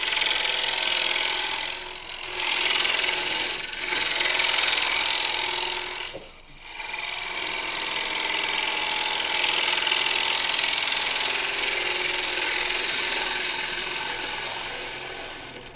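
An Easy Wood turning tool cuts wood on a lathe at a box and bowl turning demonstration, giving a steady, loud broadband scraping hiss that runs nearly continuously with two brief pauses between passes.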